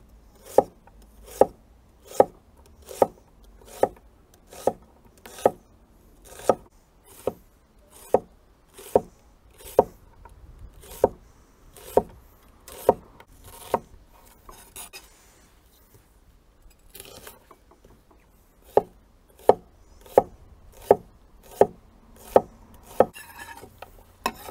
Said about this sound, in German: Dann vierteln wir sie uns nochmal und schneiden uns einfach Streifen runter.